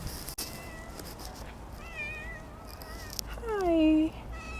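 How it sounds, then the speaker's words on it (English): A kitty meows in a room, a few soft chirping calls building to one louder drawn-out meow near the end, with quiet background noise. "Oh my god, it's meowing."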